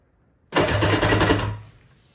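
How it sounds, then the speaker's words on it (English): Vintage jet ski engine turning over on its electric starter, a steady mechanical cranking whir for about a second and a half that cuts in abruptly and then fades away, close and fairly loud, with no voices. "I'm just gonna click the start button to see if the engine turns over"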